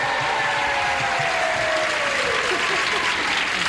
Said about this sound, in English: Those people are clapping for my husband